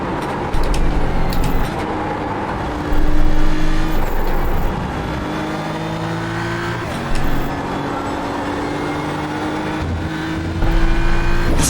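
A BMW M4 GT3 race car drives around Spa in iRacing, its engine droning loudly and steadily with rising whines through the gears and several short bursts of louder revving as it shifts.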